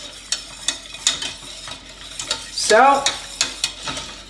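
Onion sauce stirred in a pot to break up lumps, with rhythmic spoon scrapes and knocks against the pot roughly every half second and a brief squelching swirl midway, close by, with one short spoken word.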